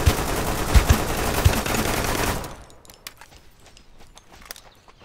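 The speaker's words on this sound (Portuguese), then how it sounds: "Tem mais um atirando." Gunfire from another player in the survival shooter Deadside: a rapid, loud burst of shots for about two seconds, then fainter scattered pops in the distance.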